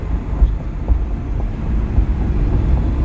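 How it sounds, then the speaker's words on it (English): A BMW E46 330 idles while warming up, a steady low rumbling drone with slight pulsing, recorded close and alone without speech. "I'm going to let the engine warm up."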